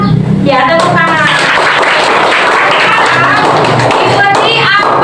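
A classroom of children clapping hands along with a teacher's instructions, a dense burst of many small claps over lively chatter and children's voices filling the room.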